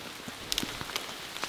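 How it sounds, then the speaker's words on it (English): Heavy rain pours down outdoors on a mountain elk hunt, a dense steady hiss with scattered sharp drop impacts, close and continuous. "Freaking pouring down rain."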